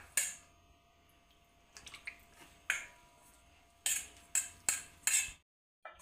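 A spoon clinks and taps against a bowl while two spoonfuls of cornflour are mixed into a thin slurry for crispy potato cutlets, giving several sharp, close metallic knocks with short pauses between them.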